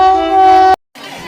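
A train horn sounds loud and close, one long sustained blast that stops abruptly, followed by a short silence and then rumbling rail noise.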